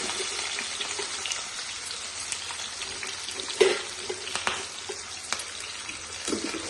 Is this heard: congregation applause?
no